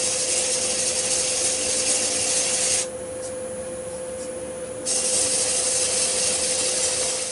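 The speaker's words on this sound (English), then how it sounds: "the first thing I'm going to do is sand this down" Sanding a small yew hollow form on a woodturning lathe gives a steady, loud, even rub with a constant hum underneath. The rub drops to a quieter, duller texture for about two seconds mid-clip, then comes back at full strength.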